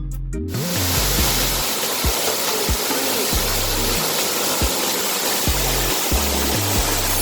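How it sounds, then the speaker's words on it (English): Loud, steady rush of water pouring into the Devil's Bathtub pool at Old Man's Cave in Hocking Hills, Ohio, a continuous roar with scattered low thumps from handling noise. "So much water."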